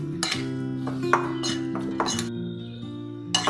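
A spoon stirs tomato salad dressed with oil and white vinegar in a bowl. Light, intermittent clinks and scrapes of the spoon against the dish sound close, over steady background tones.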